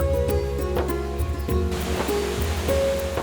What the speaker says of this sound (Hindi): वो देखो झरना।